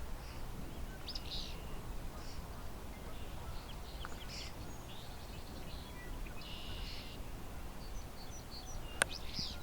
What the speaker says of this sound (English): the other birds around here, European starling, song sparrows, the occasional barn swallow